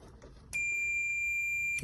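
Continuity buzz from a multimeter held across the two terminals of a Makita DCS592 cordless circular saw switch: a steady, loud electronic tone sounding for over a second after brief quiet handling noise.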